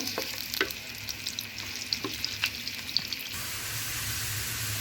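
Onions fry in a pan until golden brown, giving a steady soft sizzle with scattered crackles and a few utensil clicks and stirring taps over the first few seconds.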